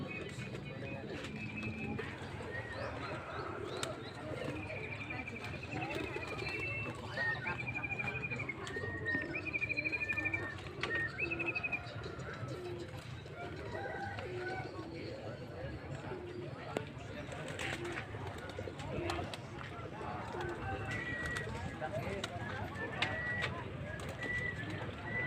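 Pigeons coo repeatedly, with other birds chirping, at the busy Kroya pigeon market in Cilacap, Central Java. The calls are steady and fairly close over a constant crowd murmur, and people talk throughout.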